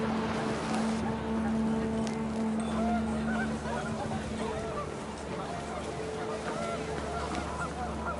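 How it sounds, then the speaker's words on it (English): Panicked geese honk in the video game What Remains of Edith Finch, a steady honking cry over wind and a low droning bed, loud at first and easing slightly after a few seconds. "The wind picked up and panicked geese appeared and quickly went."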